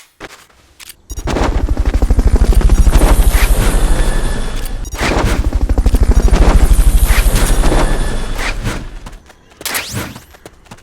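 A helicopter in the video game Metal Gear Solid: Peace Walker: a loud, steady mechanical roar with rapid thudding rotor chop swells twice and fades, overlaid with bursts of rattling gunfire.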